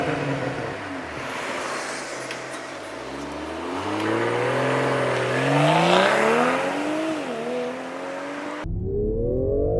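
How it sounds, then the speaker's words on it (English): A BMW M340i xDrive engine revs in rising and falling sweeps, the pitch climbing to a loud peak before dropping, then cuts off and starts a fresh climb near the end. "So the sound of the engine has a good amount of muscularity to it"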